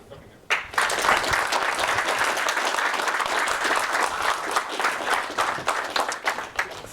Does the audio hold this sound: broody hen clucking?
no